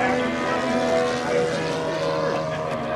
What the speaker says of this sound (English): very nice landing by the Mermaid Vickers